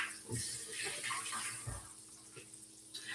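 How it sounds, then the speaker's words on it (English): Running water from a kitchen tap splashes steadily as hands are washed during cooking, a moderate close rush with some faint background noise. "Let me wash my hands."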